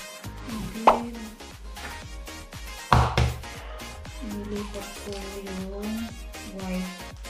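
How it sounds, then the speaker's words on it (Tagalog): Water for leche flan bubbles in a pot with soft, irregular plops, punctuated by two sharper metallic clanks, heard close and alone. "So, nagpapakulo tayo ng tubig."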